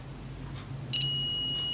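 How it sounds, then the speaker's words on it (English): A continuity tester gives a steady high-pitched electronic beep as its probe touches a power transformer wire during repair of a Philco model 37-2670 radio, heard close after a faint low hum. "Let's see if we get a beep when I touch that."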